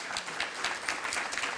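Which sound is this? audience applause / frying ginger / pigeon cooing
audience applause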